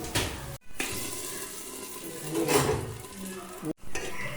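Ghee-fried cashews and raisins poured into a pot of pongal, giving a loud sizzling splash, a clatter of stirring and a second hissing pour near the end.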